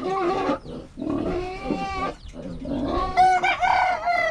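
Several Black Australorp chickens cluck and squawk close by in quick, uneven bursts, growing shriller toward the end.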